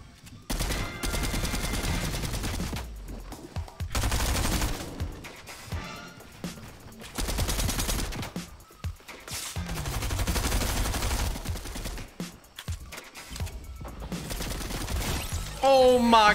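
Rapid gunfire in the Fortnite video game, repeated bursts of close, sharp shots with crashes and impacts over a busy game soundscape, with a voice speaking now and then.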